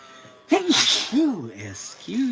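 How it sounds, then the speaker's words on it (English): A single hard human sneeze bursts out suddenly during a live painting session, loud and close, with a gasp-like intake and vocal sounds around it. "that was a good sneeze"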